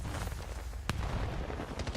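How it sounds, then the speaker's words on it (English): Explosions and gunfire during a Call of Duty League match, one sharp blast standing out amid a steady rumble of shots and booms. "everything starts exploding"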